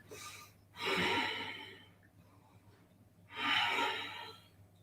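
Two slow, deep breaths taken while holding a yoga pose, each a long airy exhale swelling and fading, close and clear against a quiet room with a faint background hum.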